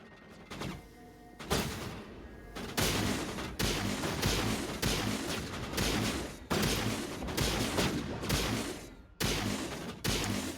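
Rapid pistol shots ring out in Mass Effect Legendary Edition, a dense run of loud, sharp reports in bursts with brief pauses, nearly continuous across the stretch.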